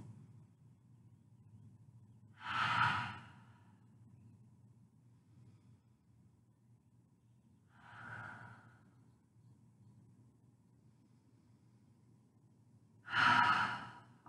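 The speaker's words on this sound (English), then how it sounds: "let's take four great breaths here" Deep yoga breaths during a seated wrist warm-up, three slow audible exhales spaced several seconds apart with quiet room tone between, close and soft, no talking.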